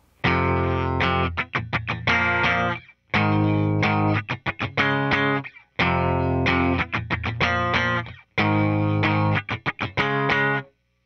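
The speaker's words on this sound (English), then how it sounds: "So that's the same riff, but with the scratchies added to them." Distorted electric guitar plays a main riff with muted, scratchy string strums between the chords, repeating the pattern four times in loud, driving bursts with brief gaps.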